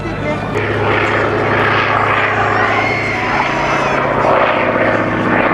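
A Hawker Sea Fury propeller fighter flying past at an air show in Avignon, its loud, steady radial-engine roar droning close and continuous throughout.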